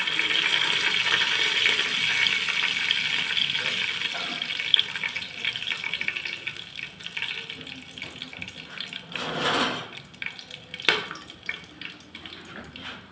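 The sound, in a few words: whole garam masala spices added to hot oil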